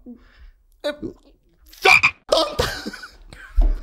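Frog croaking sound effect, a string of separate raspy croaks and chirps, close and loud with short gaps between them, and no talk over it.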